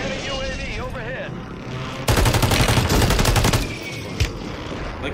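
Rapid automatic gunfire in the video game Warzone on Rebirth Island, a loud, dense burst of shots lasting over a second amid game sounds, followed by a single later shot.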